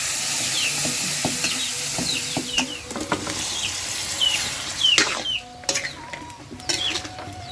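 Beef penis stir-fried in hot oil, with a continuous sizzle broken by irregular scrapes and knocks of a spatula against the pan, close and busy.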